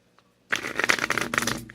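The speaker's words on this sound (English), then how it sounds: "So I'm going to start shuffling." A quick burst of tarot cards being shuffled close up, a papery riffling flutter lasting just over a second after a brief quiet.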